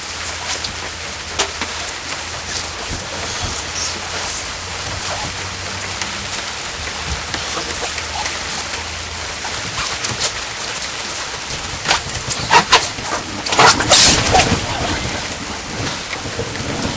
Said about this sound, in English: We have some thunder going out here.